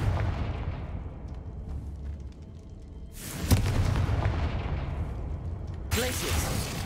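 The Confringo fire spell in Hogwarts Legacy goes off as sharp booming blasts, one around the middle and another near the end, each a sudden loud burst trailing into rumble over a quieter game backdrop.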